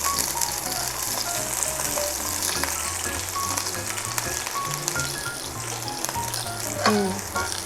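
Onions sizzle steadily in a hot pan on medium heat, a dense close crackle that holds throughout with a few faint clinks.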